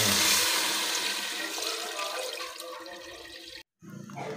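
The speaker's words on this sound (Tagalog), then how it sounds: "buksan na natin at lagyan na natin ng sabaw" Broth for chicken tinola with lemongrass is poured into a cooking pot, a loud rushing splash that gradually eases, cuts off briefly near the end, then resumes faintly.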